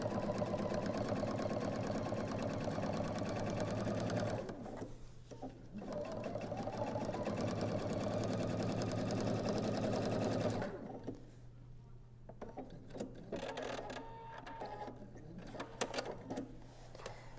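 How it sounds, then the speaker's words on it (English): A sewing machine stitches close along a seam of a fabric bedside pocket organizer in steady bursts, pausing briefly between runs, with a low hum underneath and a voice speaking quietly at times. "I'm going to stitch close by the seam to hold that seam nice and flat."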